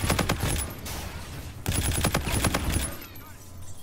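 The NV4 assault rifle fires in rapid automatic bursts in a shooter video game: two sustained volleys of loud, close gunfire separated by a short pause, with no speech.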